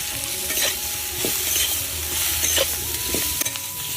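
Green chillies frying in a pan with bitter gourd and turmeric, stirred continuously. A constant close sizzle is broken by repeated scraping strokes of a spatula against the pan.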